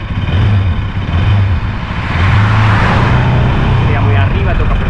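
A Bajaj Pulsar NS 200 motorcycle engine hums and rises in pitch as the clutch is let out and the bike pulls away, loud and close, with a voice talking over it.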